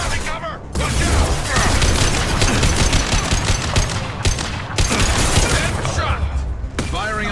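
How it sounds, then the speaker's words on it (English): Sustained gunfire in a Mass Effect 2 firefight, loud and dense with rapid shots and booms running almost continuously, broken by brief pauses. "Firing a high-impact shot"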